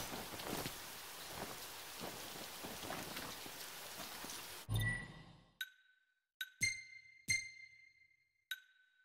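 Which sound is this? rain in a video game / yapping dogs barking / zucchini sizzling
rain in a video game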